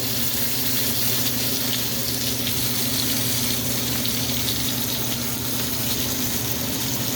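Steak fat cap searing in a hot pan gives a steady, close hiss of sizzling and crackling fat that runs unbroken throughout, with no voices.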